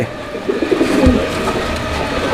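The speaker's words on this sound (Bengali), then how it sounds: "এটা হচ্ছে নর কবুতরটা ডাকাডাকি করতেছে" Low, throaty cooing of a male racing pigeon close by, a few rolling coos over a steady background hum, with no speech.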